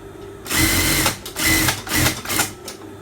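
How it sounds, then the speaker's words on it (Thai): A sewing machine stitches a folded shirt hem in several short, loud whirring bursts separated by brief pauses, close up. "พับยาวลงมาอย่างนี้ แล้วเราก็เย็บทับ"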